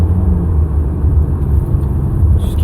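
A car driving through six to seven inches of deep snow on snow tires, with a steady, close, low engine rumble and continuous tire churn throughout, and no voices.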